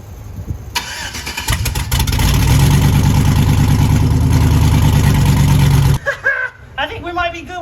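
An LS-swapped hot rod engine cranks and fires, rising into a loud, steady rumbling idle that runs for several seconds before cutting off abruptly, followed by voices talking.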